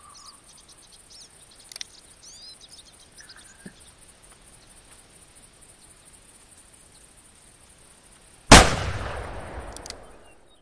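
A single loud shotgun shot in the hunting video game theHunter cracks out after a long quiet stretch of chirping insects, its echo trailing off for a couple of seconds.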